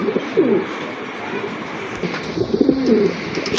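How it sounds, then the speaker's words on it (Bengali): Pigeons at a fancy and racer pigeon sale coo in soft, rolling throaty calls close by, repeating a few times over faint background noise. "মাশাল্লাহ আরেক জোড়া কবুতর দেখেন"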